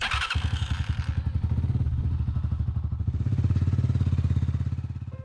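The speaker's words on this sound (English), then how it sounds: "The sound of the motorcycle engine crosses this farmland." A motorcycle engine putters steadily across open farmland, a close, even chugging that swells a little midway and holds throughout, with no talking.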